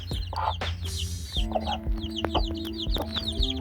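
Peruvidai chickens and small chicks in a cage, hens clucking in short bursts while chicks cheep rapidly and repeatedly, close and lively with no human voices.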